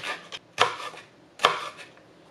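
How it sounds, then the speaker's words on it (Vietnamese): A knife chops chili on a cutting board: two sharp, close knocks about a second apart with a few lighter taps between, in a quiet kitchen with no speech. "Ớt mình có thể cắt lát hoặc là bằm nhuyễn."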